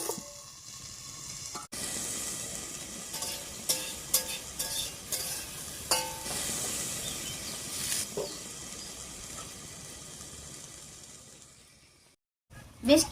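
Garlic leaves salted and cooking covered in a pan give a steady close sizzle and hiss, broken by a few short clinks and stirring knocks before fading near the end.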